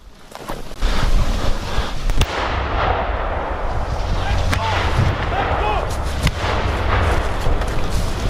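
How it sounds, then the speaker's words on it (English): Continuous battlefield din on the front line in Ukraine, with sharp gunshot cracks and deep distant booms of artillery, rumbling steadily throughout. "The sounds of the front line of the war in Ukraine, of a unit of foreign fighters coming under fire"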